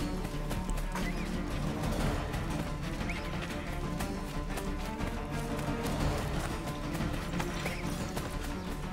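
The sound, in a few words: horse neighing in a video game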